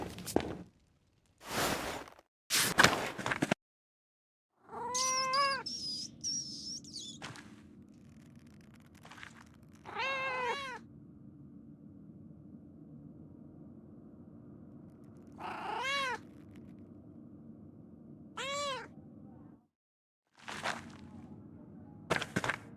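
A cat in the video game Pentiment gives several short meows with pauses between them, over a steady low ambient hum, with soft footsteps now and then.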